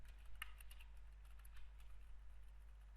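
Typing on a computer keyboard while entering country names into a web form, a quiet, irregular patter of key clicks with a few sharper strokes, close by with no talk.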